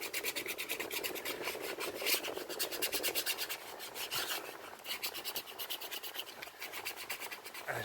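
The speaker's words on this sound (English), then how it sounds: "I'm using the sanding paper" Steady rasping of sandpaper rubbed back and forth over a surface, close and continuous with a quick repeating scratchy rhythm.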